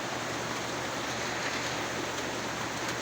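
Heavy rain pours steadily over rural fields in a continuous dense hiss, loud and unbroken throughout with no voices.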